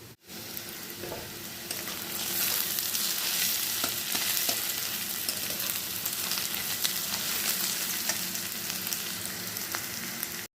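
Onions fry in hot oil in a home kitchen for chicken biryani, giving a continuous close sizzle with crackling pops and a brief stir, steady after a quick start, with no speech.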